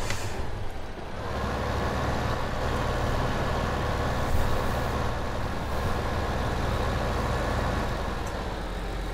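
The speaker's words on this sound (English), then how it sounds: "that tractor is coming this way" A tractor engine in Farming Simulator 2015 rumbles steadily and fairly loud, a continuous low droning hum that holds throughout as the machine draws near.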